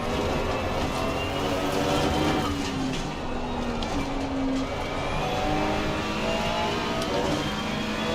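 Race car engine held at full throttle in Assetto Corsa Competizione at the Nürburgring, a steady loud roar with shifting engine tones and no breaks.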